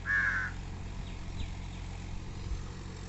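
A single crow caw rings out at the start over a farm field, then quiet outdoor ambience with a faint distant engine hum.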